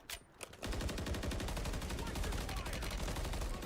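Sustained rapid automatic gunfire from Call of Duty Modern Warfare III, a dense, evenly pulsing stream of loud shots starting after a brief pause of lighter sounds and continuing steadily to the end.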